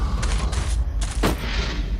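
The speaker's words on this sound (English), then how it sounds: "we're going to throw a grenade, blow up that barrier" Grenade blast destroying a barrier in Jurassic The Hunted, a loud booming detonation around the middle amid dense continuous battle noise, with other muffled thuds before it.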